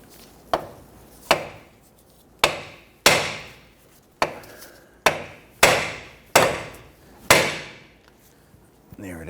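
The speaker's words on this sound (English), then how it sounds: "Other option is you can use a hammer and you're going to strike here on the knuckle" A hammer striking the steering knuckle of a 2006-2014 Honda Ridgeline during front wheel bearing work, nine sharp metallic blows spaced irregularly with ringing decay after each, close and loud.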